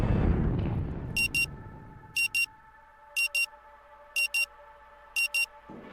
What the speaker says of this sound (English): Frenetic sound of the alarm nudges you back to the present.